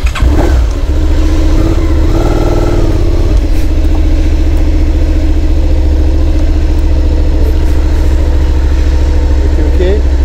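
A motorcycle engine starting and then running at a steady idle during a riding-licence lesson, loud and close, with a brief rev at the start, a voice speaking early on, and a constant low rumble after.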